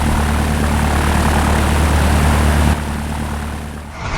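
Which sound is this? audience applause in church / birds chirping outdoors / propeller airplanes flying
propeller airplanes flying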